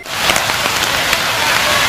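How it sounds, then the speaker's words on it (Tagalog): Steady rain pattering hard on surfaces at an outdoor concert venue, a dense close hiss with scattered drop impacts throughout and no speech. "2 beses na antala ng ulan ang pagsisimula sana ng palabas."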